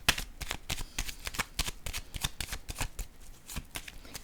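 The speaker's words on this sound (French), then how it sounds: "Je vais déposer encore une carte sur caché." Tarot cards are handled and shuffled on a table, producing a quick run of crisp, close paper snaps and flicks.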